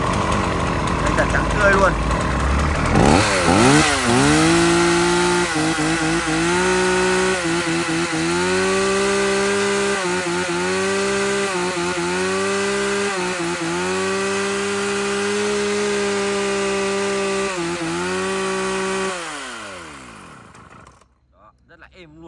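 Echo gasoline chainsaw, a Japanese-market used unit fitted with a sound-dampening muffler, starts up and runs steadily for about twenty seconds, its engine note rising and falling as the throttle is revved, loud and close, with a brief spoken remark over it.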